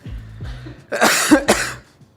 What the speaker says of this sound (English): Sorry, I coughed in the pancakes.